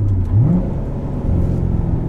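A 2016 Chevrolet Corvette Z51 with a manual transmission revs during a rev-matched downshift, a loud, close, low engine drone with a brief rising blip early on before it settles into a steady hum.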